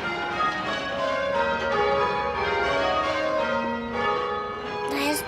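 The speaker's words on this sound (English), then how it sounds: "Let's ring some rounds." Church bells swung by ringers pulling ropes peal in rounds, a sustained wash of overlapping ringing tones heard at moderate volume throughout.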